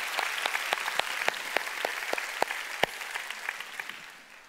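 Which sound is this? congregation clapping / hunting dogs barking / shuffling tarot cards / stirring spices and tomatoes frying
congregation clapping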